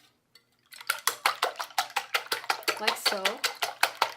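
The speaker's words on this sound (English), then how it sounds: "So I'm going to whisk them" Egg yolks being whisked by hand in a bowl, a rapid, steady run of close metallic clinks and scrapes after a brief quiet start, with a short spoken remark over the strokes.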